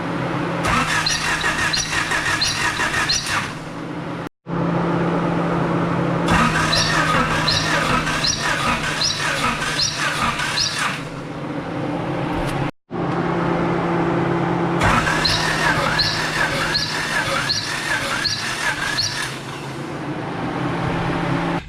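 A Honda H23A VTEC engine in a CB7 swap, with low compression, being cranked by the starter in three long bursts, each a loud rhythmic churning with brief silent gaps between.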